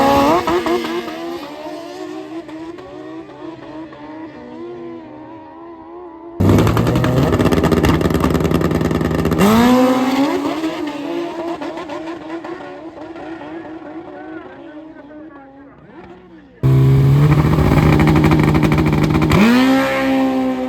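Motorcycles drag racing at a no-prep event at Southside Dragway, their engines revving loud and high as bikes launch and scream down the strip in several surging passes.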